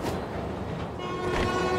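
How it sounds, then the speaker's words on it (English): A train rumbles past loudly in the Amazing Spider-Man video game, a close, steady roar of rolling wheels with a rising swell near the end and no speech. "I'm on a train."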